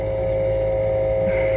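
Boat engine running steadily after air was bled from its system, a constant close, loud drone with a strong tonal hum and no break in the running.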